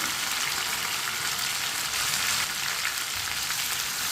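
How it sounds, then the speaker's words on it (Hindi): Finely chopped tomatoes and green chillies fry in oil in a pan for a white chana curry, giving a steady, dense sizzle with no break and no voices. "अब टमाटर को भी 2 मिनट के लिए पका लेंगे।"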